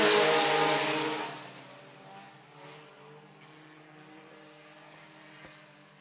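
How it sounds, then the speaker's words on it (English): Sport compact race cars at Phillips County Raceway roaring past, a loud engine rush at first that fades to a distant steady drone of engines around the track, no talking. "Sport Compacts underway."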